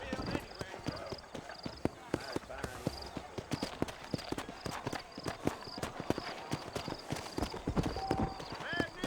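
Horse hooves clip-clop at a steady walking rhythm in the Red Dead Redemption game, in a frontier town setting, with a voice talking over the hoofbeats.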